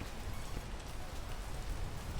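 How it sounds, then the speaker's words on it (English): Steady rain falls in a video game, a dense, even hiss with a low rumbling patter that holds at a constant level throughout, with no voices over it. "And of course it starts raining"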